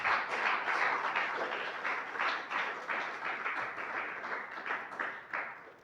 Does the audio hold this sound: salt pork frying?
no